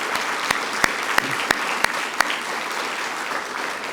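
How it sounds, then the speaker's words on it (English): An audience at a governor's small business summit applauds veterans, a steady round of crowd clapping with a few sharp nearby claps standing out. "Let's give them all a big, big round of applause."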